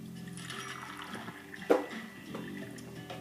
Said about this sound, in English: we're going to add about a cup of fresh water. So I'll pour that in.